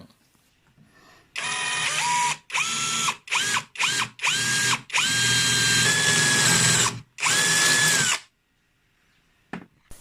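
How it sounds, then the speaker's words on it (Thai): A power drill fitted with a repaired, previously broken bit bores into steel, whining loudly in a series of short bursts followed by longer sustained runs, then stopping. "เดี๋ยวเราไปทดลองเจาะเหล็กกันบ้าง"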